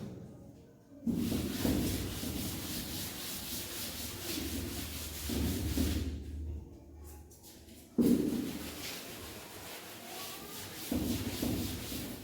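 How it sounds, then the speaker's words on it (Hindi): A board is rubbed clean of writing during a class 11 mathematics lesson, with long scrubbing strokes in several bursts separated by brief pauses. "तो इसको रब कर लेते हैं।"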